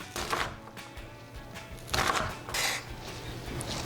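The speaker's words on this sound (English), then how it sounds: "Then we're gonna slice it across the top." A knife slices through salad ingredients on a cutting board, giving soft, uneven cutting strokes with light knocks against the board, close and quiet, with no voices.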